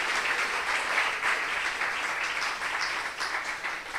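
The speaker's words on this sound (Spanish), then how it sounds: "Denle un aplauso al Rey, por favor." A church congregation applauds steadily for the king during a Spanish-language service, a dense, even wash of many hands clapping that holds without a break for several seconds in a reverberant hall.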